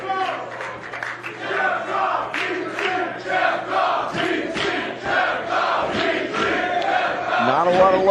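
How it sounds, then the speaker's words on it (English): Wrestling crowd at a PWG Battle of Los Angeles final in Los Angeles, a dense wall of cheering, shouting and chanting that stays loud and steady throughout, swelling slightly toward the end. "Not a lot of love for Ricochet from the crowd."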